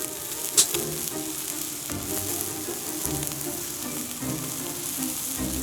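Burger patties sizzling on a flat griddle just after being flipped, a loud, steady hiss with a sharp metallic tap near the start, no talking.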